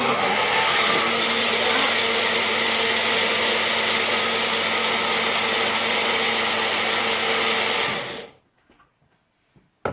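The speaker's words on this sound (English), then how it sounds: "Just put it in a blender over here." A blender whirs loud and steady for about eight seconds while mixing a breakfast shake, then cuts off abruptly, leaving near silence and a small clunk.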